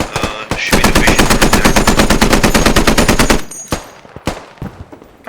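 Machine gun fire in the military shooter game Squad: a loud, sustained rapid burst lasting a few seconds, followed by scattered single shots and short bursts.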